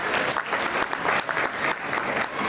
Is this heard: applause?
yes